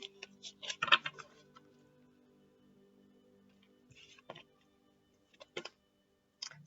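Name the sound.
tarot cards being shuffled and cut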